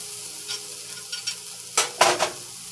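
Turkey sliders get scraped aside with a spatula across a sizzling cast iron griddle. Soft sizzling is broken by a few sharp metal scrapes toward the end, close and clear.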